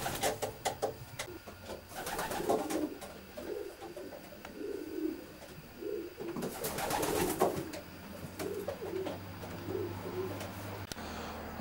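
Racing pigeon hens cooing inside a loft, soft repeated coos in an irregular rhythm, quiet and close, with occasional brief rustles and wing flaps.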